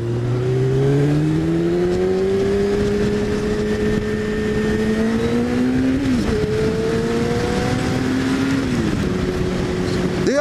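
A Yamaha YZF600R Thundercat sports bike engine drones loud and close at high revs, its pitch climbing and dipping through gear changes under wind rush.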